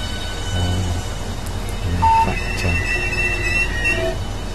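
A train runs on rails in Train Simulator on the Ebbsfleet to St Pancras line, a steady low rumble with faint tones and beeps rising over it, no voices.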